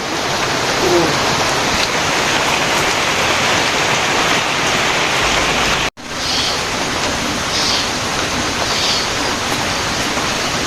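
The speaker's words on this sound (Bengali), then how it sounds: "ফুটা ফোটা ফুটা ফোটা বৃষ্টি" Steady rain pours in a village, a dense, even hiss that fills the whole clip with no voices, broken by one abrupt cut near the middle.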